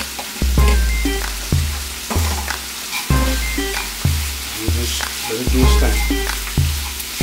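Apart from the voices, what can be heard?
green onions and bell peppers sautéing in olive oil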